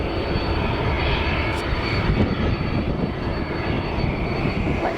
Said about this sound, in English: Heading for the runway, we've got Ryanair.